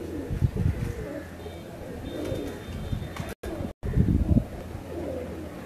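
Malang breed pigeons coo repeatedly from a rooftop in Kasur, their soft, low calls steady and close against a constant background hum, with faint voices at times.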